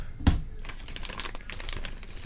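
A plastic parts bag holding ball ends for a Yokomo YD2S Plus RC drift car kit crinkles as it is handled close up, with one sharp rustle followed by lighter scattered crackles.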